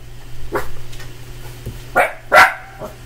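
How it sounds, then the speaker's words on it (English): Copper the dog barks loudly indoors, a few sharp barks close by, the strongest two coming in quick succession late, over a low steady hum. "He's a loud dog."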